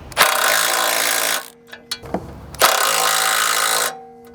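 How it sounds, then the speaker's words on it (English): Bolts on the synchronizer bar of an R300 or ProSlab harvester being tightened with a power tool, loud and near in two long bursts of rattling mechanical hammering, separated by a short pause with a few clanks. "we're going to tighten up the bolts now on the synchronizer bar"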